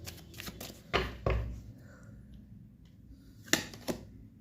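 Tarot cards being shuffled and drawn by hand, a few sharp close riffles and slaps with quiet pauses between them, faint and intermittent.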